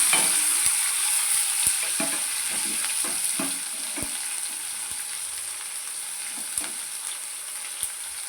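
Tomatoes sautéing with garlic and green chili paste in a home kitchen pan, a steady bright sizzle with periodic scrapes and clinks of a stirring spoon, close and continuous with no talk.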